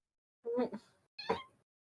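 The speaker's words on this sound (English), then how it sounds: "Is that a cat?" A cat meows twice in short succession, each call brief and fairly clear against an otherwise quiet indoor background, with a pause between the two sounds.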